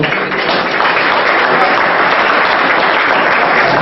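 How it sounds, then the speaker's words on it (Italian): Dinner guests at a Christmas party applaud in a loud, dense, steady burst of clapping that fills the room without pause. "ma facciamo un applauso a Marco"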